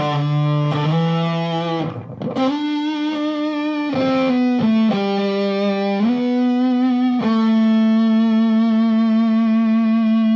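An electric guitar played through heavy distortion, sustained buzzy notes and chord changes ringing out with a thick, saturated tone.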